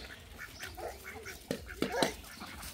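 Penned farm ducks quack in short, scattered bursts, several calls overlapping, fairly close but at a low overall level.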